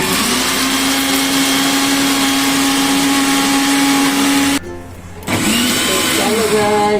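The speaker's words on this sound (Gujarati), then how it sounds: "તો આપણે મિક્સર ગ્રાઇન્ડરમાં ફેરવી" A mixer grinder grinds chutney with a loud, steady motor whine that cuts out briefly near the end and then starts up again.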